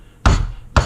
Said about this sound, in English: take your rubber hammer